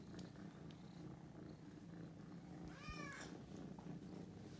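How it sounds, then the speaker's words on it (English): A cat purring steadily and close, a continuous low rumble, with a brief meow-like chirp midway. "Your purr is so loud."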